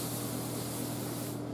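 Water sprays from a low-pressure hose onto etched concrete, a steady hissing wash that holds evenly throughout and drops away at the very end.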